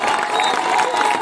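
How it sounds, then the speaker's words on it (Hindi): Spectators at a rural Olympic kabaddi final in Rajasthan clapping and cheering, a loud dense wash of crowd noise with steady hand claps and a sustained tone running through it. "तालियां बजाते रहे सभी दर्शक, ताली बजाए।"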